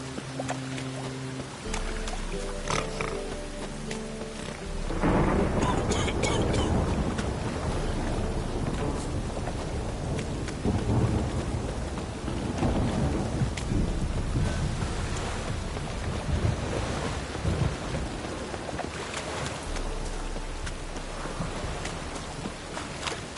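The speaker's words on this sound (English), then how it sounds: "Must be mad running around in this rain." Steady rain pours in a Witcher 3 game storm, a broad continuous wash of heavy downpour with low rumbling underneath that fits distant thunder, running loud and unbroken for the whole stretch without speech.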